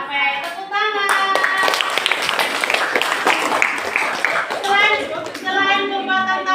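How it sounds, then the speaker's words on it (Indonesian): Schoolchildren in a classroom clap their hands together in rhythmic bursts to applaud a group, sharp close claps over lively children's voices and chatter, with talk heard at the start and end. "Tepuk tangan untuk kelompok 1."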